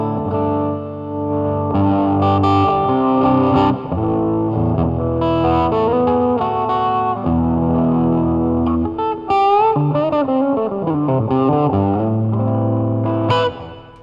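Electric guitar played through a vintage Bullet Black Face amp with overdriven, distorted tone, sustained chords and melodic lines, the grit easing in places as the guitar's volume is turned down to clean up.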